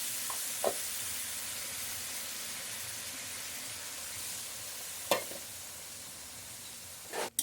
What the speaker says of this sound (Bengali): একটু জল দিয়ে মশলাটাকে কষাতে হবে, না হলে মশলাটা পুড়ে যাবে।